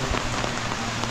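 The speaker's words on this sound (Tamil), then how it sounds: "மழை பிடிச்சிச்சுங்க." Steady rain falls at the Ranawana temple in Kandy, a dense, even hiss of drops pattering on surfaces close by, with no voices.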